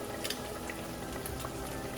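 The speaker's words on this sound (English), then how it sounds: "You can see that the chicken marinade has still been boiling." Chicken marinade for a tomato-chicken stew boils in a pot, giving a steady, fairly quiet bubbling hiss with occasional pops and no voices.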